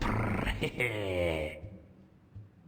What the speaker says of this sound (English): Who let the dog out?